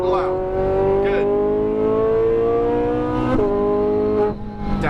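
A Lamborghini Huracan Performante accelerates on a race track in Las Vegas, its engine note climbing steadily in pitch, with a brief gear-change dip and another rising pull near the end. A driving instructor's voice runs beneath it.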